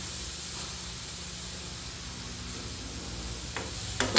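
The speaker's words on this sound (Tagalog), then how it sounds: "So, nilagyan natin yung corned beef." Corned beef frying in a pan gives a steady, close sizzle and hiss throughout, with a few soft clinks of a utensil near the end.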